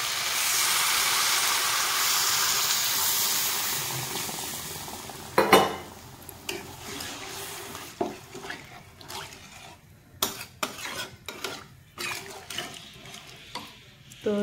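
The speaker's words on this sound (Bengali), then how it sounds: "তো কষানো হয়ে গেছে, দিয়ে দেবো জল।" Water poured into a pan of sautéed spices for a rohu fish curry with potato and cauliflower, a loud broad hiss and sizzle at first that fades, followed by scattered clinks and stirring scrapes.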